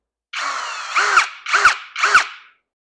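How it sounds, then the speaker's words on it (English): A cordless drill fitted with a Phillips bit whirs as it drives a screw, in three short close bursts, each rising in pitch and ending in a sharp stop. "I got the Phillips head inserted. This is so I can control the screw as it's being inserted."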